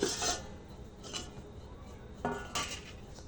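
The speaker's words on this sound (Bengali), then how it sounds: "এবার আমি ঢাকনাটা খুলে নেব" A pot lid comes off a bowl of rested flour dough with a few short metallic clinks and scrapes, spaced apart and fairly quiet against a faint room hiss.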